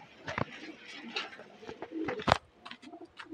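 Pigeons at a loft give soft, throaty coos in short repeated bursts, close by and fairly quiet, with a few sharper wing or perch noises between them.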